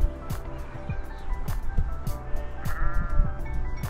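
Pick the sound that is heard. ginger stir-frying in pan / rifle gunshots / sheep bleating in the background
sheep bleating in the background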